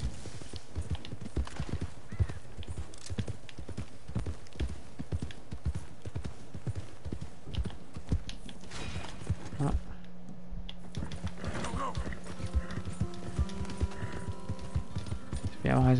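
Horse hooves gallop in Red Dead Redemption 2, a rapid, steady clip-clop running throughout, close and prominent, with game sounds and a voice briefly heard near the end.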